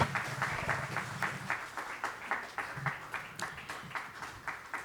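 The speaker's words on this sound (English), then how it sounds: "A huge round of applause." Audience applause at a Bombay Chamber event unveiling its Viksit Bharat 2047 vision, steady clapping from a fairly distant crowd that gradually thins into scattered, separate claps.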